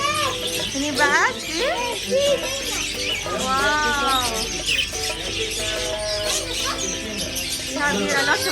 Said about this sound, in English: we have here a lot of birds